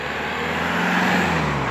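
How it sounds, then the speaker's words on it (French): A truck passes along a road, its steady engine and tyre hum swelling gradually and holding close for a couple of seconds, with no voices. "il y a un camion qui va passer"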